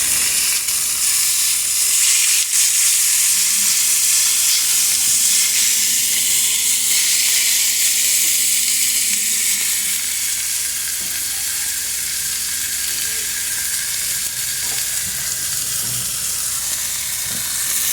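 Pieces of spiced lamb sear in a hot pan with a loud, steady sizzle and hiss that holds for the whole stretch, close up, with no talk.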